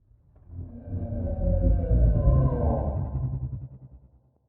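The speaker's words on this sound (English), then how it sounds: "here's what the entire whale layer sounds like." A whale-call sound design layer made for a Star Wars style effect: a single deep, swelling moan with bending, gliding tones. It rises from silence, holds for a few seconds and fades out, heard alone.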